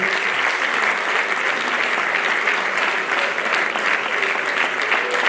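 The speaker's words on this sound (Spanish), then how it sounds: "A Federación Galega de Montañismo ten a honra de galardonar, con un forte aplauso, a Antonio Fernández Peña." Mountaineering federation gala audience applauding an award recipient, a dense, sustained burst of many hands clapping in a hall, steady and loud for several seconds.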